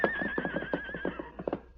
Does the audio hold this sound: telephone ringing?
no